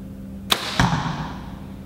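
An arrow tipped with a lighted Nockturnal nock is shot from a crossbow: a sharp release snap, then a heavier thud about a quarter second later as it strikes, ringing briefly before fading into a steady low hum.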